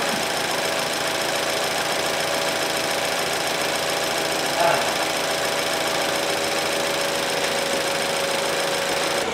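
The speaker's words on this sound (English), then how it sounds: "This car is all put back together. It's running beautifully." A rebuilt 2017 BMW car engine runs at a steady idle, a constant even hum with a faint ticking texture and one brief small bump midway, heard close and alone.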